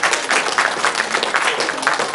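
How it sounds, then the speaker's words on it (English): An audience at a school board meeting claps and applauds in a brief, dense burst of hand-clapping. "You guys can clap now."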